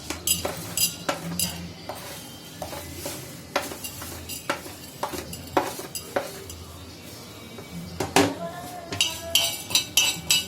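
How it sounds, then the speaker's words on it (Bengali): Dry red chillies, chana dal and fenugreek stirred in a hot pan on low flame, repeated sharp metallic spatula clinks and scrapes over faint dry rattling, close up. "এতে শুকনো লঙ্কা, চানা ডাল আর মেথিটা একটু নেড়ে নেব।"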